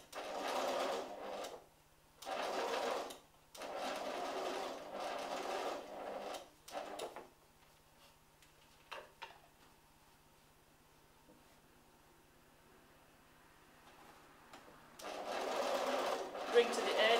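Sewing machine stitching gathers on a bodice, running in several short close bursts followed by a long pause and a final run.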